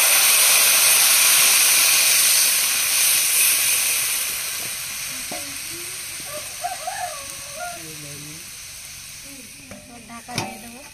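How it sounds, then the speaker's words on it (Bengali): Water hits a hot pan of frying fish and bursts into a loud, dense hiss of steam that slowly dies away over several seconds. Faint birdsong chirps come through as the sizzle fades. "এবার জল দিয়ে দেবো।"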